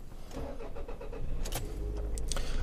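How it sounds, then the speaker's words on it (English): A 2000 Toyota RAV4 is started, with keys jangling and the engine cranking and catching into a low idle rumble, heard from nearby. "let's start the vehicle"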